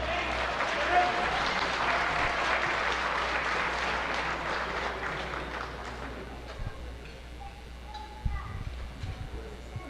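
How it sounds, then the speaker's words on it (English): Wedding guests applaud the bride's brother as he is called up, a dense round of clapping that thins out and fades toward the end, with a few scattered voices and claps after. "Let's give him a big round of applause, everybody."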